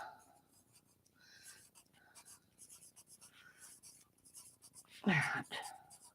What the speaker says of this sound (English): Okay, I wrote myself a note.